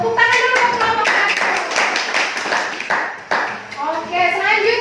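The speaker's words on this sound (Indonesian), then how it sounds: "tepuk tangan dulu untuk kelompok 1" A classroom of students claps for a presentation group, a brisk scattered round of close applause lasting several seconds, with voices chattering over it.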